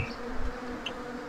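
Honeybees buzzing at a Hungarian apiary, a dense continuous hum of many insects with no voices.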